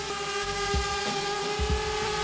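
A DJI Spark drone flies back automatically toward the operator, giving a steady high-pitched motor whine with a constant hum and a few soft low thumps underneath.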